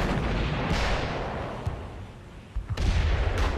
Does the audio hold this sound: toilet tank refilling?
no